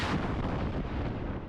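Mobile artillery firing in Taiwan, a deep, heavy rumbling blast that fills the whole moment, loud and sustained with no clear separate shots.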